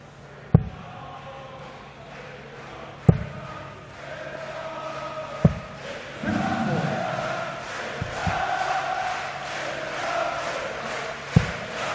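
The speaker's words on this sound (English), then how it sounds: "Been a great crowd here over the 3 days, isn't it? And they've still got plenty of voice for both players in the final" A roaring arena crowd cheers and chants through the final of the European Darts Grand Prix between Mervyn King and Michael Smith, a steady wash of voices punctuated by several sharp, loud thumps.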